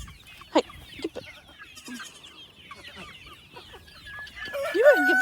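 Chickens cluck near their coop with scattered short clucks and squawks nearby, growing busier toward the end, with a little background rustling.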